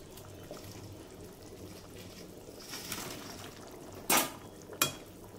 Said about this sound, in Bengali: এই যে ধোকা দিয়ে দিচ্ছি